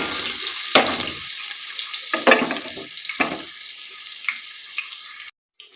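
Ginger, garlic, spices, curry leaves and small shallots hit hot oil for a mutton curry, giving a loud, hissing sizzle. Several sharper bursts come as they are stirred, and the sound cuts off abruptly near the end.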